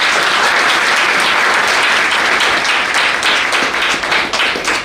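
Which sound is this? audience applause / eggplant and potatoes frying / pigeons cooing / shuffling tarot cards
audience applause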